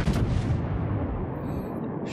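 Battleship main guns firing in the naval game World of Warships, likely a Grosser Kurfurst, one heavy booming salvo with a rumbling decay, loud and close.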